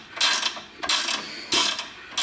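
Metal parts scrape and clack in three short, sharp bursts as a pry bar levers a misaligned axle on a Honda Fit, close and fairly loud.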